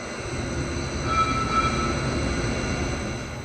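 A VTA light rail train in San Jose rumbles steadily and fairly loudly, with a faint high wheel squeal drifting over the low rolling noise and no voices.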